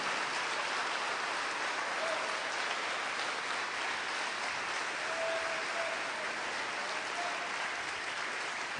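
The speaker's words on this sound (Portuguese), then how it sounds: "Você pode dar um aplauso ao Senhor? Pode ser mais forte." Church congregation applauding during a worship service, a dense, even wash of clapping that sounds almost like steady rain, continuing at moderate level for nearly nine seconds without speech.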